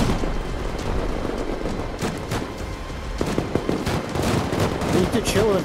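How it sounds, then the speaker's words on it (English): Gunfire in the survival game Rust: scattered sharp shots and short bursts ring out over a rough ambient background, while players talk in between. "he's shooting behind you"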